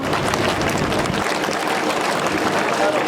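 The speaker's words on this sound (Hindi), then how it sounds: "एक बार मुख्यमंत्री जी के लिए जोरदार ताली बजा दो" Crowd applauding the chief minister at a mango festival opening ceremony at Dilli Haat, dense sustained clapping that fills the whole stretch with a murmur of voices mixed in.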